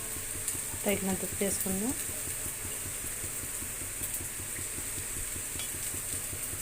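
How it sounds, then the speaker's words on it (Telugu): Grated beetroot fries in a pan for beetroot charu, giving a steady close sizzle with scraping stirs; a voice speaks briefly near the start. "బీట్రూట్ తురుము వేయించుకోవాలి, ఇట్లా పచ్చివాసన పోవాలి"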